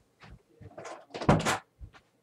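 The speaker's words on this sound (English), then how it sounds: "Gotta close the door here." A door is pushed shut in a home studio, a few close knocks and rattles building to a firm thud, then a last light bump, with no talking.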